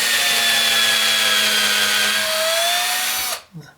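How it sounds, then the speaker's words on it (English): A power drill whines steadily as it bores into a wooden picture frame for several seconds, then stops abruptly, followed by a brief clatter. "You want to pull your drill bit out to help clean it"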